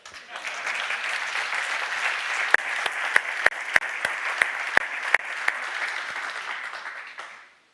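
Audience applause breaks out at a Fiat press conference after the Fiat 600 and Fiat Topolino are named, a steady dense clatter of many hands with a few sharp nearby claps. It swells in quickly, holds, then fades out.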